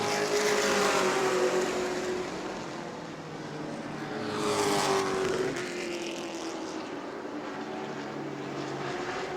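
Stock cars roar around a track at New Smyrna, a dense, loud engine drone with a car swelling past mid-pass and the pack continuing at a distance.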